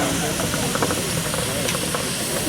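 An 8 nominal horsepower miniature steam traction engine at a steam and vintage transport rally demonstration ring, giving a steady close hiss with soft mechanical chuffing, while someone talks over it.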